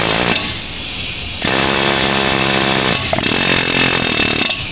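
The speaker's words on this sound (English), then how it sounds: "Got a pneumatic hammer here. We're gonna use that indentation to hammer on the pinion." A pneumatic impact gun hammers on the pinion of a Ram 1500 rear axle, firing in long, loud rattling bursts with short pauses between them, each burst a harsh, buzzing metallic clatter.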